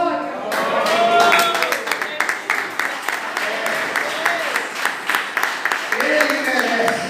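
Congregation applauding for Christ during a church service, a burst of clapping from many hands that swells, then breaks into sharper, uneven claps over the room's reverberation.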